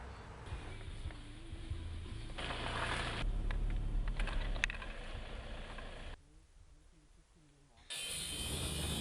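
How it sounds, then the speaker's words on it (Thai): Construction machinery works flat out building resorts at Phu Thap Boek, with engines rumbling and mechanical clattering and grinding. The noise swells in the middle, drops away briefly near the end, then returns. "เสียงเครื่องจักรกำลังเร่งทำงานอย่างเต็มกำลัง"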